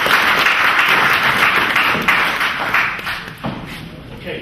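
A crowd at a book launch applauds loudly and continuously, with a thick wash of clapping close by and voices mixed in.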